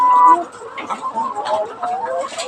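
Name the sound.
chickens coughing in a poultry farm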